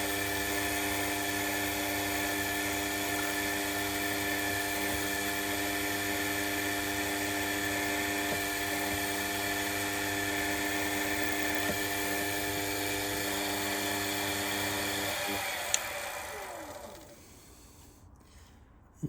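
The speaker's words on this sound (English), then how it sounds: "counterbore with that little drill as well." A small drill cutting a counterbore in an engine part whines steadily at high speed with a strong tonal hum, running continuously before spinning down and stopping near the end.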